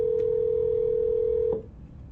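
Telephone dial tone on a phone call, a single steady loud pure tone that holds for about one and a half seconds and then cuts off, leaving faint line hiss.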